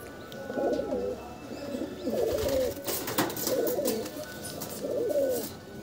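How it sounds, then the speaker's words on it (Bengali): Kalanka breed pigeons coo nearby in a steady series of four rolling, throaty calls, with faint background noise and no talk. "কালাঙ্কা বিডের পায়রা"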